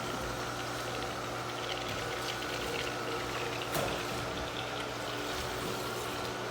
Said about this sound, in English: now we got the flush wand going here